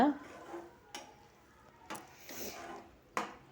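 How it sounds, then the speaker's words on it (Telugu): A spoon scrapes and clacks against a pot of kabuli chickpea curry, with a few sharp knocks spaced about a second apart over a faint sizzling background. "ఇప్పుడు ఇది బాగా కలపాలి కూర"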